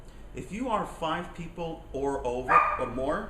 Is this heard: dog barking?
yes